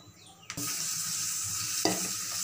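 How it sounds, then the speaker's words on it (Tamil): A brief clatter, then a sudden loud, steady sizzle of frying oil poured into a hot kadai for cauliflower pakoda, with a second small splash near the end. "கொஞ்சம் பொரிக்கிறதுக்கு எண்ணெய் ஊற்றிக்கோங்க."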